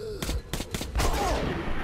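Machine gun bursts from a Metro: Last Light video game, in several short, loud, close rapid volleys separated by brief pauses, with no talk over them.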